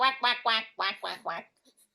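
A voice imitates a duck with six rapid nasal quacks in an even rhythm, close and clear, then stops into near silence.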